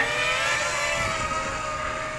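Small Tarot 130 quadcopter drone motors whine steadily at high pitch with a dense buzzing hum throughout, fairly close and continuous without talk.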